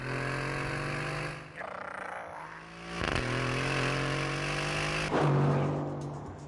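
A new Aston Martin Vantage engine with a gravelly, growling tone, revving hard and sustained, with sharp rises in pitch and a steady roar heard close up and alone.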